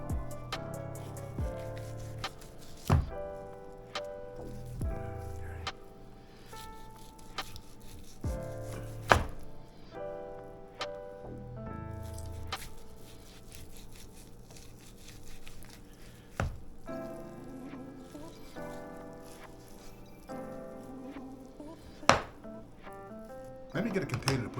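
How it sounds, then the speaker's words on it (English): A knife slices ham off the bone on a cutting board, giving irregular soft chopping thunks and scraping cuts spread through the stretch, close and moderate in level, with faint background murmuring. "I'm going to take this and slice it down till I can't slice it down anymore."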